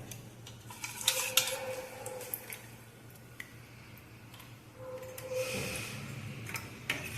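A spoon mixes curd into ground tambuli paste in a bowl, with soft squishing stirs and light clinks of metal against the dish, fairly quiet and close.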